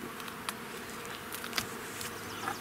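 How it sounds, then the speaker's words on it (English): Honey bees buzz steadily at an open hive during a summer inspection, a dense, fairly quiet drone with a few bees passing closer in brief louder swells. "Even there, that's a lot of bees."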